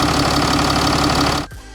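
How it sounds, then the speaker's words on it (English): A 2021 Mercedes GLE 400d Coupe diesel engine idles loudly and close with the hood open, a steady rough tractor-like knocking rhythm, then cuts off abruptly near the end. "if you open the hood like this, you can definitely hear that the diesel engine works"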